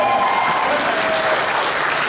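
Audience applause at a convention, dense and steady clapping from a large crowd, loud and sustained throughout.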